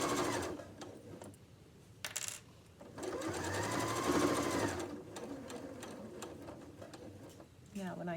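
A sewing machine runs in steady bursts, stitching straight across the necktie section of an apron, with a close, even mechanical whir that stops and restarts; soft talk is faintly audible in the background.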